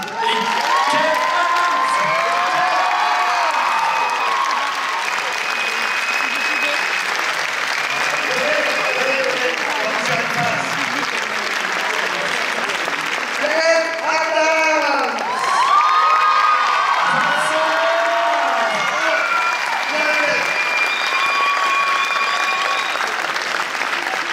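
A large cinema audience at a Paris film premiere at Le Grand Rex applauds and cheers loudly for actor Vincent Elbaz, a sustained dense wall of clapping with whoops, shouts and crowd voices rising and swelling throughout.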